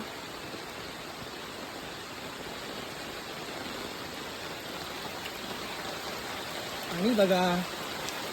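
Heavy monsoon rain pours steadily over the green Konkan countryside as a dense, even wash, with a voice breaking in briefly near the end.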